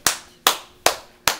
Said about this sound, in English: let's give him some applause